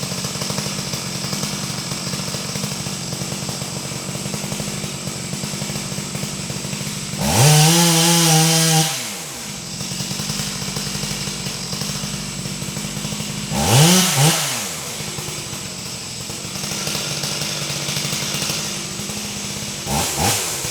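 A chainsaw plunge-cuts into a standing tree to finish the cutout behind the hinge, a steady nearby engine drone with two loud bursts as the bar bites into the wood, the second shorter.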